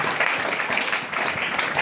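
Schoolchildren clap together in a classroom, giving a short burst of dense, close applause that holds steady for under two seconds.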